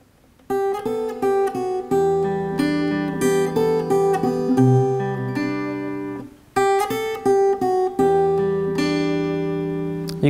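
A piece's second part, played on guitar: clear plucked notes ring out in a steady flowing melody over sustained bass tones, close and alone with no talking, pausing briefly before the phrase resumes.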